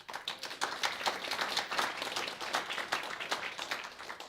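An audience in a church claps together in a warm, continuous burst of applause. The many hands blend into a dense, even patter that carries on for a few seconds.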